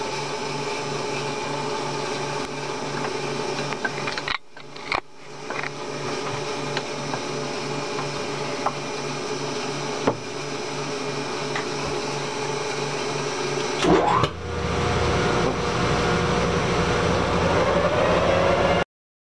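Drill bit boring a 41/64 inch hole through a strut block, a steady loud grinding whine that runs for most of the stretch, with a brief pause and a shift in pitch partway through as the cut continues.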